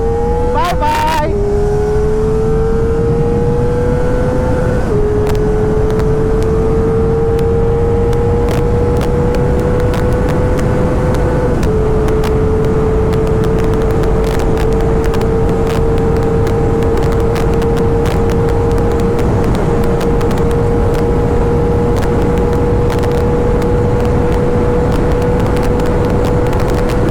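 Two motorcycles, an Aprilia RS 457 and a Kawasaki Ninja ZX-4R, drag racing, with a steady high engine drone rising through gear shifts over a long pull, heard continuously with wind noise and some talk mixed in.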